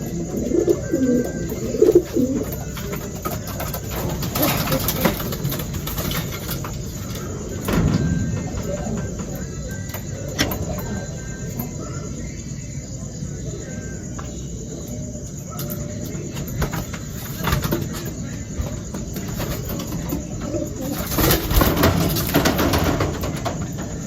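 Racing pigeons coo softly in a loft on a hot summer day, low murmuring calls repeating on and off amid steady background hiss and occasional rustling and knocks.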